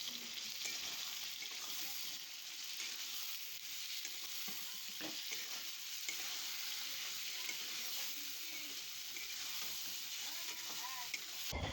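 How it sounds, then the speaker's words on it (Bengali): Ground spice masala sizzles and fries in a pan, a constant close hiss with scraping stir strokes throughout and faint speech underneath. "ভালো করে নাড়াচাড়া করে মশলাটা আমি কষিয়ে নেব"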